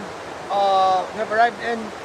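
Steady rushing water of Tegenungan waterfall in Bali, a soft even roar heard from the top of the falls, with people talking over it through most of the clip.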